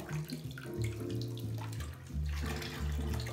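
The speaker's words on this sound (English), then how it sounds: "There's gonna be a lot of water coming out." Water running from a tap while a trombone outer slide is rinsed, a steady splashing flow with shifting tones throughout, fairly close and with no talk.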